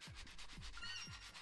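A scratch ticket is scratched in the Rayman video game, with steady repeated rubbing strokes and a brief bright chiming flourish partway through, loud and close with no talking.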